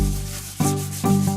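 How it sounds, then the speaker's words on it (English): Wet sanding a caboose by hand with 400 grit sandpaper gives a rubbing, scraping sound with a faint tonal ring, in two firm strokes that start at clear, spaced points and then fade. "We're wet sanding this with 400 grit sandpaper just to get a smoother approach on it"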